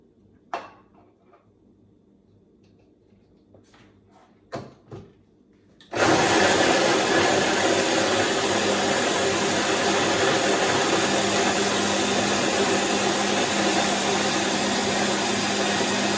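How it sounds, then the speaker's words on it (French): After a few quiet knocks in a kitchen, a blender starts up suddenly and runs loud and steady as it purees onions for Moroccan harira soup, with no talking over it. "Maintenant, on va mixer les oignons."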